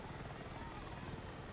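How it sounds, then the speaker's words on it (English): A military helicopter flown in the video game Battlefield 6 drones in a steady broadband rotor and engine wash throughout, constant and close, with a voice talking over it. "So I'm just doing my own thing in the helicopter."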